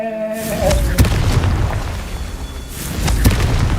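A Confringo blast spell explodes in Hogwarts Legacy, giving a sharp booming burst followed by a rumbling tail, then a second heavy boom near the end, loud and close over game ambience.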